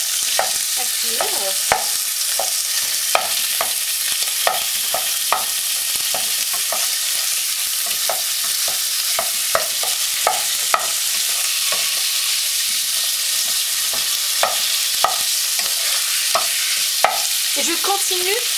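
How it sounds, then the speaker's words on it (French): Minced meat sizzles steadily in a pan as it cooks for kibbeh, a dense broadband hiss broken by frequent sharp clicks and scrapes of stirring, close and continuous with no talking. "Et je continue à mijoter tout cela pour avoir à la fin une viande hachée courte"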